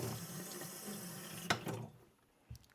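Soapy water poured onto a honing stone for edge refreshing, a steady close trickle and splash that stops abruptly, followed by a few faint drips and a small knock.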